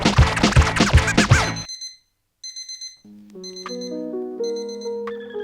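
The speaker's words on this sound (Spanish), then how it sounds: "una alarma vino a rescatarme" An electronic alarm beeps in short repeated bursts after a brief burst of speech, then a sustained ringing melody of tones continues alone.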